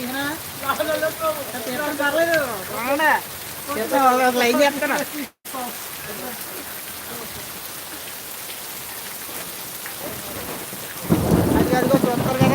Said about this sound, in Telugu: ఇక్కడ వర్షం ఎక్కువ వస్తుందని